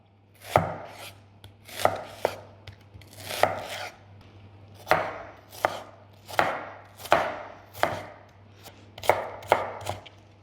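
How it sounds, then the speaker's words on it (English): A knife chops onions on a cutting board in a home kitchen, about a dozen sharp, close knocks in irregular bursts over a steady low hum, with no talking. "Okay, so now I'll chop that up."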